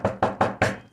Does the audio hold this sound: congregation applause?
no